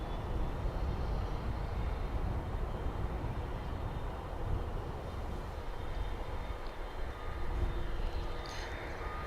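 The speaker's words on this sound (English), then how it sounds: "We got American Airlines flight 1034 coming in from Guadalajara." American Airlines Boeing 737-800 arriving at DFW Airport. It is heard as a continuous broadband jet rumble, fairly faint and distant, steady throughout with no voices.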